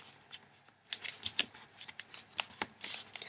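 Paper being folded and creased by hand while shaping a simple origami rose, a close, quiet run of crisp crinkles and sharp taps scattered irregularly through the moment, with no talking.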